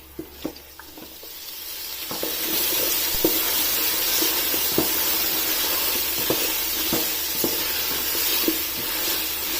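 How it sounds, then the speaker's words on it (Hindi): Chicken sautéed in a pan for a pulao, with a sizzle that swells after a couple of seconds and holds steady, punctuated by regular spatula clicks and scrapes against the pan; no voices. "अब चिकन को इसमें 3 से 4 मिनट तक अच्छी तरह से भून लेना है"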